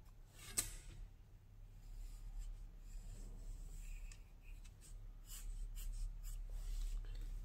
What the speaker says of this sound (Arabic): اضغط عليها برصاص